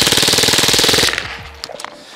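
An American 180 .22LR submachine gun rips off one rapid, evenly pulsed full-auto burst lasting about a second, loud and close, then stops, leaving a few faint clinks and rattles.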